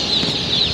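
Tiger chicks just delivered from a hatchery chirp together in a dense, high-pitched peeping chorus, close and continuous through a very short moment.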